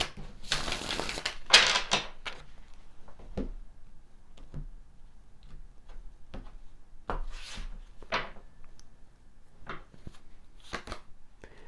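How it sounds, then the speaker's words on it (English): Tarot cards riffled and shuffled up close, a dense burst of papery flutter at the start followed by scattered soft slaps and slides as individual cards are drawn and laid down, quiet and intermittent. "Let's pull some additional tarot cards for you here"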